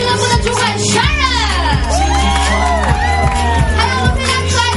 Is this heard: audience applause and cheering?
yes